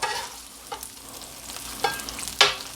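Butter and meat sizzling on a hot flat-top griddle during an Italian sub cook, a steady close frying hiss broken by a few sharp crackles and spatula scrapes near the end.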